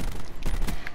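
Rapid gunshots in Call of Duty Black Ops 4, a quick burst of several sharp cracks within about a second, fairly loud with no talking.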